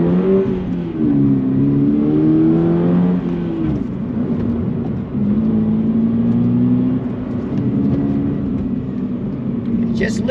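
A 2022 Subaru BRZ with a six-speed manual gearbox drives through mountain turns, its engine note rising and falling through gear changes, loud and steady, with a voice talking over much of it.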